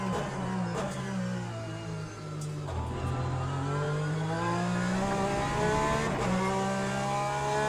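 Porsche RSR race car in Le Mans Ultimate, its engine note climbing and dropping through gear changes as it accelerates, loud and steady from the cockpit with no one talking.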